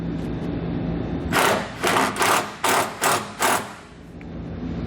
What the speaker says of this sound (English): Now I'll take the included self-tapping tech screw and use that to secure it to our frame.